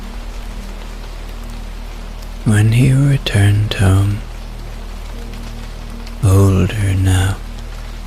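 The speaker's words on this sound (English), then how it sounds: "it was raining back in Edinburgh" Steady rain falls as a constant hissing patter beneath a calm narrating voice, the downpour continuing evenly between spoken phrases.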